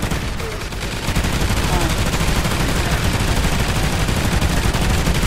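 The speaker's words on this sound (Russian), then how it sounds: "я стреляю" Sustained, loud, rapid gunfire rattles without pause during a Call of Duty: Ghosts Extinction match on the Invasion DLC, with voices faintly present underneath.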